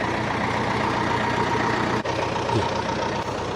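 A concrete mixer truck's engine idles close by with a steady, droning rumble that holds level throughout, broken by one brief dip, and no voices.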